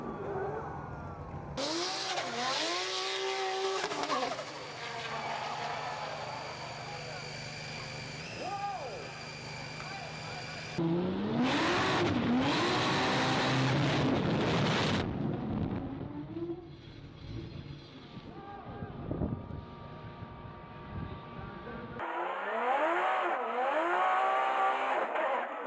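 Daigo Saito's Toyota A90 Supra makes an all-out demonstration run, its engine revving hard and rising and falling through gear changes, with tire squeal, sharp bursts and cheering or talk over the racing noise.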